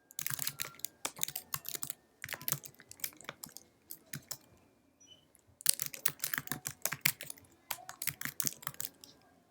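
Rapid clattering of computer keyboard keys in uneven bursts with short pauses while writing JavaScript code, close up and crisp, with no talking.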